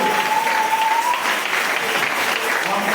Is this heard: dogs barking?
no